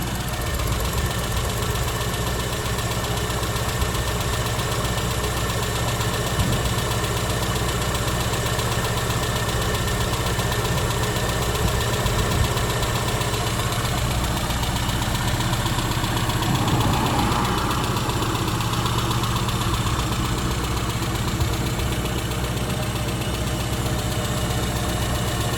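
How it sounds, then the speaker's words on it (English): The 1000cc engine of a restored 1991 Rover Mini City-E idles steadily close by, a constant low rumble with a light rhythmic ticking, no voices. "Ticking over nicely. I'll keep quiet so you can hear the engine."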